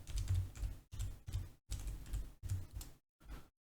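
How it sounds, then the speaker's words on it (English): Quick bursts of typing on a computer keyboard, close and clicky, separated by short pauses and ending in a final brief flurry. "You can change the text by just typing."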